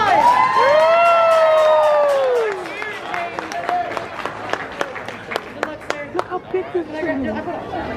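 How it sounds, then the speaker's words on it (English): An audience at a stage event cheers with a long, rising shout, then breaks into scattered, crisp individual claps over lively crowd chatter and people talking nearby. "Let's give him a round of applause."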